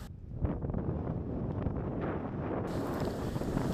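Steady wind gusting across the pier on Untung Jawa island, with a boat nearby and microphone buffeting; a loud, continuous roar without speech.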